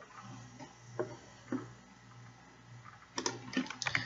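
A few scattered keystrokes on a computer keyboard, then a quick burst of rapid typing toward the end, close and fairly quiet over a low steady hum while a query name is edited.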